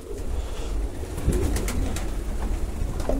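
Pigeons coo inside a pigeon loft, low throaty calls rolling over a steady background rumble, with a few brighter flutters and clicks mid-way.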